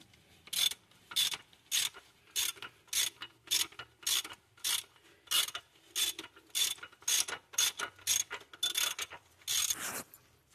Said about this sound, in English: I just got an extension with a 14 millimeter socket